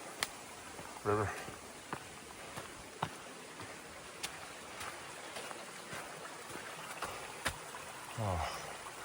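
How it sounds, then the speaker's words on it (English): A river flows beside a rocky, muddy trail on Stone Mountain, North Carolina, as a steady rushing wash. Scattered ticks and taps and a couple of brief voice sounds sit over it. "Gorgeous river."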